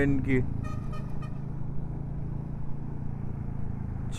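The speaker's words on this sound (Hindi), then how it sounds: "बहुत स्मूथ चल रही है बाइक अभी" A motorcycle engine hums steadily while riding on a long road trip through Arunachal Pradesh toward Ziro valley, with wind and road noise throughout and a brief horn toot near the start.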